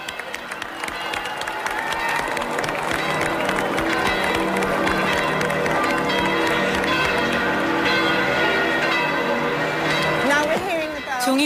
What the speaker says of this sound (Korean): 종이 울리는 걸 보니 확실하네요.